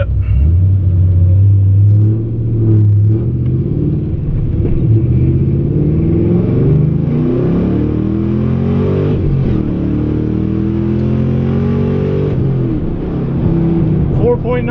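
A Pontiac GTO pulls hard on nitrous from 30 to 80 mph, a loud sustained engine roar climbing in pitch through the gears with brief dips at the shifts, close up and dominating throughout.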